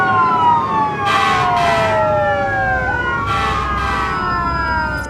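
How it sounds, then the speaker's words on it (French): A film scene's wailing emergency siren, heard through a phone with its volume turned up, sweeps in long repeating tones and stays loud and steady. Bursts of hiss cut in between the sweeps. "Cole a augmenté le volume de la sirène et enfin, ils ont entendu le son au téléphone."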